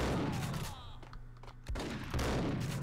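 Bursts of gunfire in the Max Payne video game, a cluster of sharp shots, a quieter gap with a single heavy report, then another loud volley close up.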